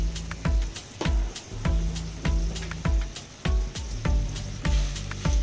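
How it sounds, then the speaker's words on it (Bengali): Prawns cooking down in a pan with dried chili powder, turmeric powder and a splash of water: a steady sizzle broken by regular, close stirring strokes about twice a second. "ভালোভাবে কষিয়ে নিব।"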